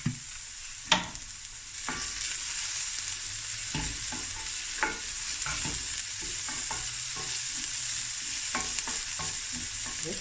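Garlic sizzles steadily in hot oil in a pot while a spoon scrapes and stirs through it, with occasional sharper clinks over the constant frying hiss; no talking.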